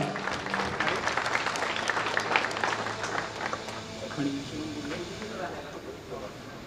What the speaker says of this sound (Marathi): तर लादेंसाठी एकदा जोरदार टाळ्या